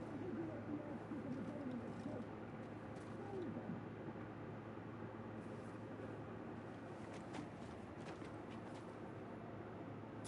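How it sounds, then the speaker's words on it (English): Owls hooting in the Final Fantasy XVI video game, faint soft coos drifting over a quiet, steady ambient background. "I love those owls."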